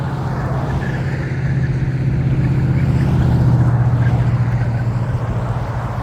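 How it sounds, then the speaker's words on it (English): A 1972 Camaro drives past as a broad, loud motor roar that swells gradually toward the middle and then eases off slightly. "Just saw a 72 Camaro drive by."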